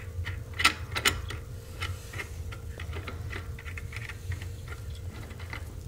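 A nut being tightened onto a homemade shotgun assembly gives a couple of sharper metallic clicks early on, then faint, steady ratchet-like ticking over a low background hum, with no talking.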